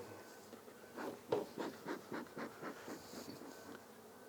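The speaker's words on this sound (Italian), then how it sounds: "io sbatto dentro le api in maniera da recuperarle tutte" Honey bees being knocked from a feeder into a hive box, a soft buzzing rising in a run of rhythmic bursts, faint and close, with a sharper thump near the start.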